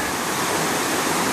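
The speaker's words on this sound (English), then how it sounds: "this must be the Swift River" The Swift River flows steadily beside a hiking trail near Flat Pond, a continuous broadband rush of moving water that stays loud and even throughout with no voices.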